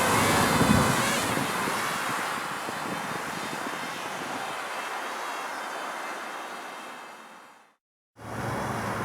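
A Parrot Rolling Spider minidrone whirs continuously as it flies and spins in wind, its buzzing mixed with wind rush, then cuts out abruptly near the end before resuming.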